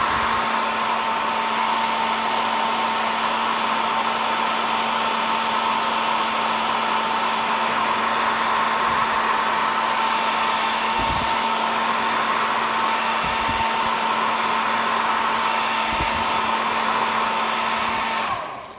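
Hair dryer running steadily at close range to dry a coat of craft paint, a continuous loud whooshing whine with a constant pitch and a few faint bumps of handling, no talking.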